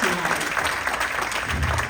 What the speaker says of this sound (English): let's give another round of applause for all of these talented women